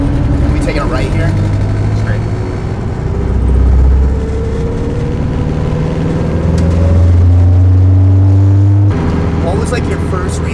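A 600-horsepower Honda Civic engine accelerates hard, rising drone swelling and climbing in pitch with a loud boosted roar, people talking over it inside the car.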